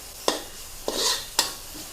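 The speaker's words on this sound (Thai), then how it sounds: "ประมาณนี้ก็คั่วไปค่ะ คั่วให้มีกลิ่นหอมเนาะ" Chili and garlic stir-fried in a nearly dry wok with only leftover oil, giving three sharp scraping stirs over a soft steady sizzle, close and fairly quiet with no talk.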